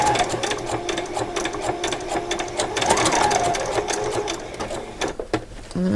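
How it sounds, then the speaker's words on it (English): A sewing machine stitches fabric for a doll's coat, a loud, close, continuous rapid mechanical whirr with a fast repeating needle pulse, briefly slowing near the end. "I'm just going to do a few stitches on and a few back stitches, and then straight across"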